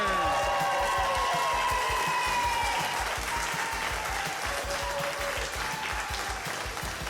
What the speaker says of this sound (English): Let's have a round of applause for all improvisers.